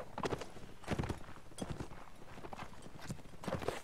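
Horses running in the Mount and Blade Warband video game, a steady run of rapid hoof clip-clops throughout, fairly loud and close, with no talk over it.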